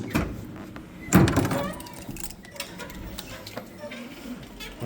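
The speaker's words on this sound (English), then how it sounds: "Or, I'm sorry, doors are opening." Duplex elevator doors slide open with a clunk and mechanical rattle during a modernization inspection, followed by faint ticking and machinery hum while someone talks.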